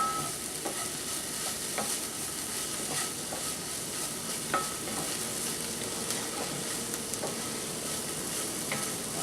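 Shiitake mushrooms frying over medium-low heat in a stir fry pan while being stirred, a constant sizzle with occasional light clicks of the utensil against the pan, and no talking.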